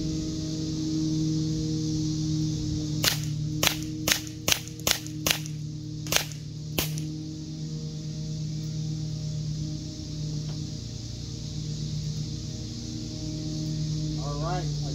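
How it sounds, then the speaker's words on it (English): Eight sharp, snappy shots from a Gamo P-430 air pistol fire in quick succession at an indoor range, each crack standing out over a steady low hum, followed by a long stretch of hum alone. "I'm going to go 8 rounds, rapid fire middle."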